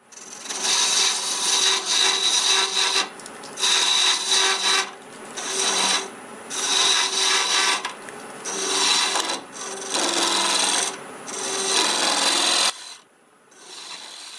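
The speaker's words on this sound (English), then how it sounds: "Got a freshly sharpened half-inch bowl gouge," A freshly sharpened half-inch bowl gouge cuts into padauk wood on a lathe while shaping a segmented vase, giving loud, close rasping passes in repeated bursts separated by short pauses.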